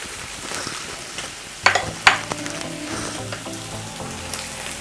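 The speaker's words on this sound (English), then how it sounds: "just put a bit of onions in it, let it cook." Onions cooking in a pot for beef stew, a soft steady sizzle with two sharp clatters of a utensil against the pot midway and faint background hum.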